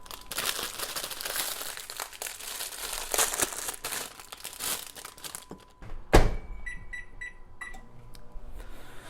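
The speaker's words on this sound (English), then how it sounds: "Remove frozen pancakes from the wrapper." The plastic wrapper of frozen pancakes crinkles and rustles in bursts for several seconds, followed by a sharp thunk and a few quiet electronic beeps.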